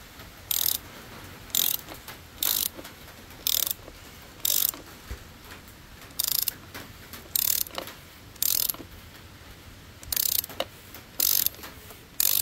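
A socket ratchet tightens the oil filter housing on a 2013 Volkswagen Passat TDI SE, giving short bursts of rapid clicking at a steady rhythm, about a dozen strokes, close and clear with no talk.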